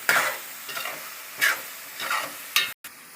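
Drumstick curry coated in chili powder cooks in a pan, with soft sizzling and several bursts of stirring scrapes spread across a few seconds, close and fairly quiet, ending in a brief cut to silence.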